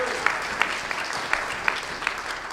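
Applause from an audience at a political action committee meeting honoring a newly elected state committeeman, a steady wash of hand claps with a few sharper individual claps standing out, moderately loud and continuous.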